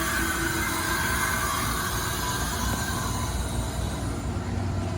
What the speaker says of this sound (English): We do have a freight train on the other siding